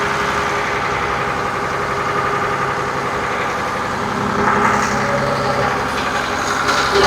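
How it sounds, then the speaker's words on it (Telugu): A diesel engine on a fishing boat runs steadily and loudly up close, a constant rumbling drone with a rapid mechanical chatter that swells slightly toward the end. "ఇది బోట్ ఇంజిన్ అనమాట"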